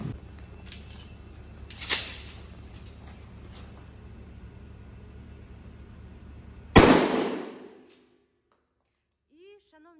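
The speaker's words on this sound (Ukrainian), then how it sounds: "Стріляти будемо з вами з 20 метрів дріб'ю." A single sharp shotgun blast firing birdshot from 20 metres rings out close by and decays quickly, preceded by a fainter crack and followed by near silence.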